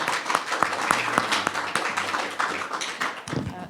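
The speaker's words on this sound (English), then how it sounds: "So please give her a round of applause." Conference audience at a panel on peace and governance in Afghanistan applauding a guest speaker, a moderate crowd of sharp, close handclaps in an irregular run that fades toward the end.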